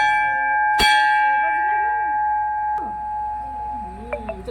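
A temple bell is struck once, ringing out clear and loud and then sustaining a long humming decay, with faint background sounds and occasional soft voices nearby.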